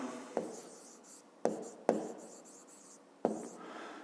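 Pen or chalk writing out a fifth-grade math exercise, four distinct taps, each followed by short scratchy strokes, close and quiet with no voices.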